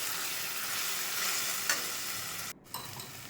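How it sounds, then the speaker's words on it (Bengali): Spice masala being stir-fried in a pan for Bengali chicken curry, a continuous soft sizzle with scraping stirs and a brief clatter near the end, no voices. "এখন কষাকষির পালা চলছে।"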